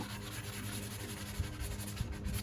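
A cheap Dollar General sanding block rubs a nick off a ball in short, quiet scraping strokes, faint and close, without talk.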